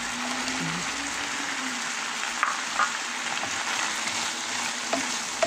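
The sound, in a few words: bitter gourd frying with ground beef in pan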